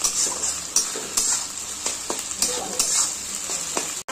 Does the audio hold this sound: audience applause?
no